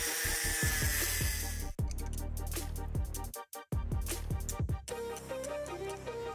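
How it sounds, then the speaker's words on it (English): An abrasive cut-off wheel slices the flange off a steel frame rail under an early Ford Bronco, giving a loud, continuous grinding whine broken by a few brief pauses and clattering bursts. "go underneath here and try and slice right here with the death wheel and get the most of that flange off"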